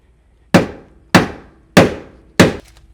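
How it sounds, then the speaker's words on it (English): A four-pound hammer strikes metal on a lifted truck, four sharp, loud clanging blows spaced evenly about half a second apart, each ringing out and decaying before the next. "this is a four pound hammer"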